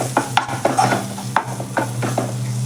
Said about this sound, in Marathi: हे व्यवस्थित आपण मिक्स करून घेऊयात सगळे मसाले आपले